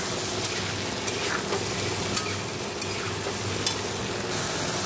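Spice paste of cumin, coriander, Kashmiri chilli and turmeric frying in a pan, a loud continuous sizzle close by, broken by stirring scrapes and small crackling pops.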